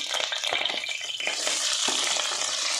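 Onions frying in a pan after paneer, a dense close sizzle with crackling spatters and the scrape of stirring running steadily throughout, with no voices.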